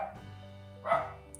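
A dog in a house gives a single clear bark close by, preceded by a low whine-like tone and then quiet.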